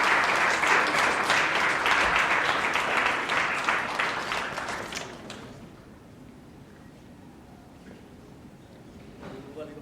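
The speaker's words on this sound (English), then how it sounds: "a big round of applause for our 9th and 10th grade winners" An audience at a university essay contest awards ceremony claps loudly for several seconds before the applause fades out, leaving a quiet room with faint speech near the end.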